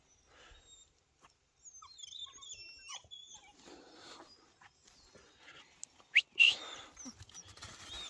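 Faint, high-pitched puppy whimpers and squeaks come in short bursts, with soft rustling in between and one louder squeal near the end.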